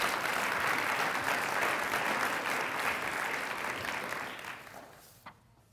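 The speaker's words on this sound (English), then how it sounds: "How about another round of applause for Brian Hendrickson and his good work?" An audience at a university research lecture breaks into sustained applause, dense and even, which thins out and fades near the end, with a few faint voices underneath.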